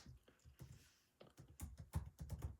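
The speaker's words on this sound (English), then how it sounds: "I'm typing on the other computer." Faint, irregular keystrokes on a computer keyboard, with a few scattered taps followed by a quicker burst of clicks near the end, close but quiet.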